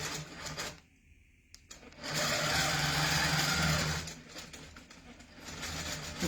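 A sewing machine quilting cross-hatching lines guided by a ruler, a steady mechanical whirring that stops briefly, then runs again in sustained loud stitching bursts with small pauses, close by and with no talk.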